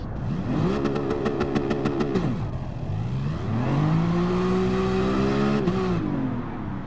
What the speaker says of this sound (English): You launch it on a higher gear and then you downshift.